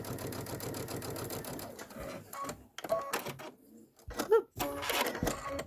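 A home sewing machine fitted with a 90/14 Microtex needle stitching a seam through a thick quilted pillow. It gives a steady whirring run, then stops and restarts in shorter bursts with faint clicks in between.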